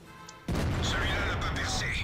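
A KV-4 heavy tank's cannon fires in a World of Tanks style video game, a sudden loud close blast with a sustained rumbling roar after a quieter moment of engine noise.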